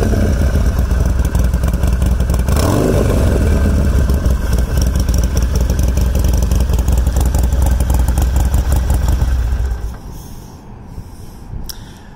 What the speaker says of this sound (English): it gives that signature Harley rumble